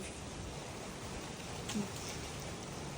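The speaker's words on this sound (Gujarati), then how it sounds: "અત્યારે આવે છે વરસાદ" Steady rain falls outdoors in Ahmedabad, a dense even hiss that lasts the whole stretch with no breaks, sounding close and fairly loud.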